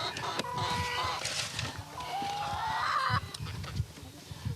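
Leghorn and Rhode Island Red chickens cluck nearby on a Hawaiian farm, a scatter of short clucks and a drawn-out squawk over outdoor background noise.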